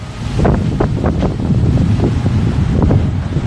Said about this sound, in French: Ah là j'ai l'impression qu'il y a énormément de vent.